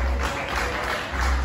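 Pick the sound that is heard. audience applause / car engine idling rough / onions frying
audience applause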